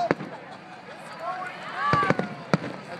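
Fireworks at an ocean beach: sharp bangs go off at irregular intervals among rising whistling streaks, heard at a middle distance with crowd voices in the background.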